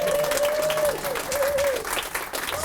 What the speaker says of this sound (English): Give these 4 lovely humans a round of applause.